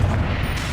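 A Confringo blasting spell bursts in Hogwarts Legacy, giving a loud, dense explosive rumble with heavy low-end boom that holds steady through the short moment, no voices over it.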